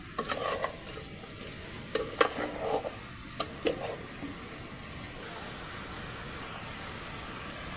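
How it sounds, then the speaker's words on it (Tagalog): Steady sizzling in a pan as chicken feet are stirred with spices, scraping, clattering stirring strokes early on, then continuous frying hiss. "Haluin na natin mabuti makatamos hanggang magpantay yung kanyang mga pampalasa."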